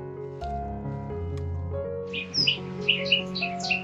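Bright bird chirps and short tweets in an autumn mountain forest flutter in the upper range over a steady low hum, arriving in quick bursts during the second half.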